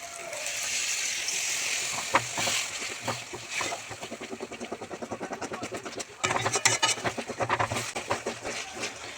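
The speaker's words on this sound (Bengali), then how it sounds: "আর একটু জল দিয়ে দেবো।" Water is poured into a hot kadai of cauliflower kofta curry with green peas, setting off a steady broadband hiss that turns rougher and more crackly partway through, with bubbling pulses under it.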